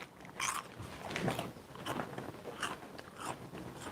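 Crisp, irregular crunches from biting and chewing a spicy, twisties-like puffed snack, close to the mic, several bites spread across a few seconds with no talk.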